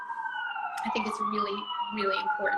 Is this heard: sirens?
yes